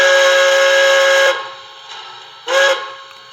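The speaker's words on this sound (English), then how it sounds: "You got the whistle." A TCS WOW Sound decoder in a Bachmann Spectrum K4 model steam locomotive sounds a loud, steady steam whistle, one long blast followed by a short second toot.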